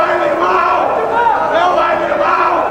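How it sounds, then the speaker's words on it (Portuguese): Football fans in stadium stands applaud and cheer the players, a dense, continuous crowd roar with chanting voices filling the whole stretch at steady loudness. "Nas arquibancadas, os torcedores aplaudem os jogadores."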